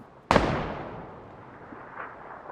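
A single loud gunshot bursts out in the PUBG video game, followed by a long, fading reverberant tail that trails off over the next two seconds.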